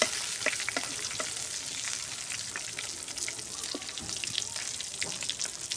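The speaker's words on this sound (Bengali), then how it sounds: "পাঙ্গাস মাছ সুন্দর হালকা করে আমি ভাজে নিলাম।" Pangasius fish pieces sizzle and crackle while lightly frying in a pan, a steady close hiss with scattered pops and the occasional scrape of stirring.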